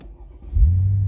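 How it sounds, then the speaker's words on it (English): A Mercedes-Benz CL500 V8 fires up from inside the cabin: a short starter whirr, then the engine catches with a deep low rumble that settles into a strong, steady idle, loud and close. "engine starts"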